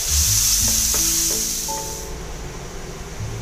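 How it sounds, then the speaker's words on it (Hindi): Onions with black pepper, cloves and cinnamon browning in a pan give a bright, close sizzle, loudest at first and easing slightly, with a few clinks and scrapes of stirring and no talk. "काली मिरी और लवंग और प्याज। प्याज को हमें अच्छी तरह से ब्राउन होने देना है।"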